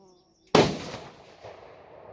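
A single sharp rifle shot from a 280 Ackley Improved rifle during a group test, loud and close, with a long rolling echo decaying afterward and no talking.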